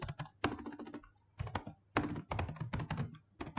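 Fingers type a scene loader script name on a computer keyboard while a Unity game scene script is set up, with quick bursts of close, crisp key clicks separated by short pauses, with no talking.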